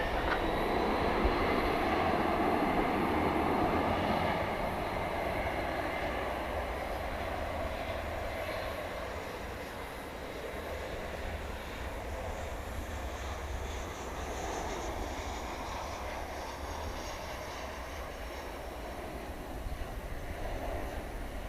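A heavy Boeing 747 departs DFW at night, its distant jet roar rising early, then easing into a long, steady rumble that lingers without talk.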